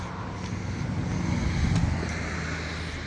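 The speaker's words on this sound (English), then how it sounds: "Got some background car noise as I'm out here on some back roads." Steady broadband road and wind noise from a car driving on back roads, a continuous low rumble and hiss that fills the whole stretch at a fairly even level.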